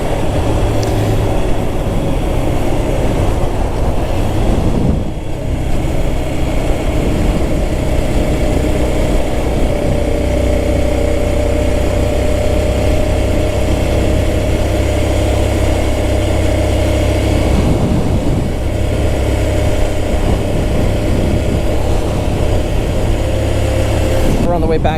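A Hyosung GT250R motorcycle engine drones steadily while the bike is ridden, a loud continuous hum with slight dips and rises as it moves, and a rider talks over it.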